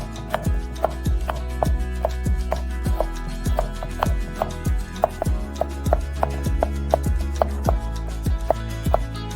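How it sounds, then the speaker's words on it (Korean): Knife chopping steadily on a cutting board while cucumber is cut into long strips, an even run of close, crisp thuds at a brisk rhythm with a faint musical backing underneath. "파프리카 그리고 크레미 유부에 싸기 좋게 길게 잘라줍니다"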